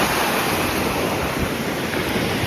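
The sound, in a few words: ocean waves on a windy beach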